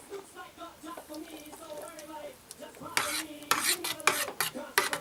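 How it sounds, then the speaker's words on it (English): A spoon scrapes and clinks against a bowl while beans are scooped into porridge, first faint and soft with some background talk, then louder, sharper clattering bursts near the end. "take your spoon and spoon the beans inside your porridge"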